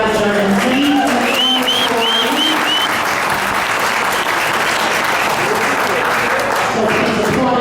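A convention audience applauding a jazz band, with loud, dense, continuous clapping filling the room throughout, while a few whistles and cheers rise over it early on.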